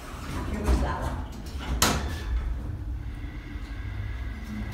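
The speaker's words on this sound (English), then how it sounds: "Watch both doors close." Twin Delta elevator doors in the EIT building at UW slide shut with a low rumble and a sharp clunk partway through, ending in a quieter rattle while voices murmur faintly in the background.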